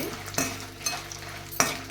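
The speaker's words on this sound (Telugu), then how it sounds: "నూనె కాగుంది కాబట్టి తొందరగా వేగిపోయినాయి అనమాట" Dried red chillies fry in hot oil with a soft, steady sizzle, broken by a few sharp scrapes as they are stirred in the pan.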